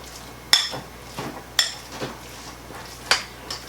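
Meat and softened cream cheese get mixed together in a bowl for an Italian-style mac and cheese, with three sharp utensil clinks against the bowl spaced through the stirring and softer scraping between them.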